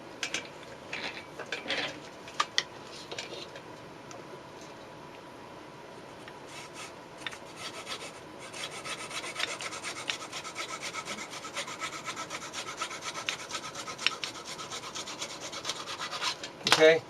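A small X-Acto hand saw roughly trims the ends off a model bridge, steady close-up rubbing strokes through wood that grow denser in the second half, with a few sharper knocks early on and near the end.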